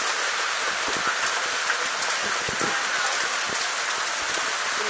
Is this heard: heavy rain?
yes